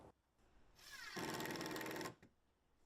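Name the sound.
driving small screws into pegboard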